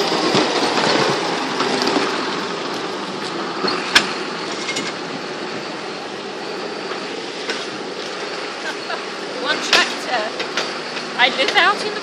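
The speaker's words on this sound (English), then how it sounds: "We've got a tractor that is disturbing us." A tractor passing along a countryside road, a continuous rumbling engine drone that stays fairly steady, with some clanking and rattling and a voice heard intermittently over it.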